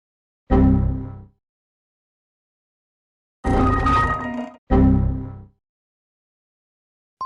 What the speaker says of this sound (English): That was a Windows error.